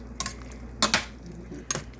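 A big spoon stirs hamburger vegetable soup with potatoes and carrots in a boiling pot, three distinct scraping clinks against the metal over a low simmering background.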